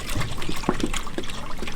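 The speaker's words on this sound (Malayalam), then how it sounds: "ഞാൻ പാലൊഴിച്ചു." Two litres of milk poured from a container into a pot on a gas stove for homemade paneer, a short close liquid splash and trickle heard on its own.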